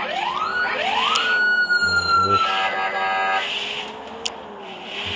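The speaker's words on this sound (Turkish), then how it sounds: "Siren, polis sireni yoktu daha önce." A police car siren in a bus simulator video game wails in rising and falling sweeps over the steady hum of the engine, loud and close, with a few clicks and clunks partway through.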